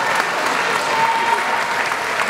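Dense, steady applause fills the hall at a senior ballroom dance competition in Gliwice, a loud continuous wash of many hands clapping together for the whole stretch.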